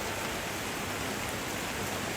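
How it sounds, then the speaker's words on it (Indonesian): Heavy rain pours steadily in Bangkile-Kila, North Toraja, as a dense, unbroken hiss with no pauses or voices. "saat ini masih hujan deras"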